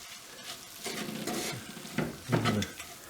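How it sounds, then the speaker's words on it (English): A spice and onion mixture is stirred in a pan over low heat, a soft sizzle under scraping strokes of the spoon, with a few louder sweeps and a brief clink of the pan. "We're going to keep stirring."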